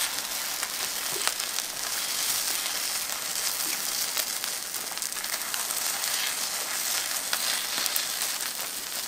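Takoyaki sizzle loudly on a hot griddle as they are flipped: a dense, continuous hiss and crackle with faint clicks, close and with no talking.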